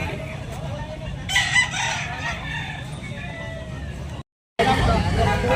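A stag rooster crowing nearby, one drawn-out call over outdoor background noise, with a person talking around it and a brief dropout near the end.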